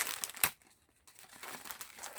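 Paper packaging is crumpled up close in crackly, crinkling bursts, with a brief quiet gap partway through before the rustling resumes.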